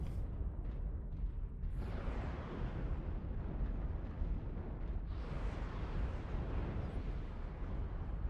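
Airstrike blasts in a multiplayer shooter game: a sustained roar of heavy explosions, with a fresh loud burst around two seconds in and another swelling at five, rumbling continuously with no talk.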